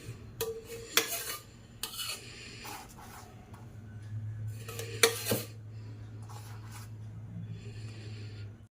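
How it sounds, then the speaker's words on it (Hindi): Melted ghee is spread onto a stack of rotis in a home kitchen, with close scraping and dabbing clatter from a utensil in bursts between quiet pauses and a faint steady hum underneath. "इसलिए मैंने घी डाल लिया और अब रोटी चिपड़ देती हूँ"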